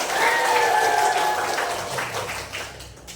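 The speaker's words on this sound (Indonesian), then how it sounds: "Oke, tepuk tangan buat semuanya." Classroom applause during a teacher training lesson, a group of students clapping together for a couple of seconds, with a whistle-like tone and voices mixed in before it fades.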